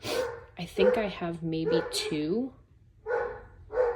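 Dogs barking indoors, a few sharp barks and yips breaking out between a woman's speech, fairly close and loud.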